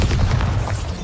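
A Bombarda explosion spell in the video game Wizrd, a heavy sustained boom with a deep rumbling low end, loud and close for about a second.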